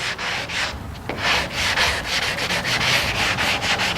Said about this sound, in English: You can sand with it.